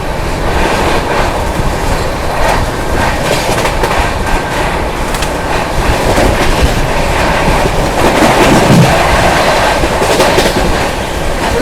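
The 12487 Jogbani–Anand Vihar Seemanchal Express runs past close by, a loud continuous rumble and roar of wheels on rail with rhythmic clickety-clack throughout and no voices.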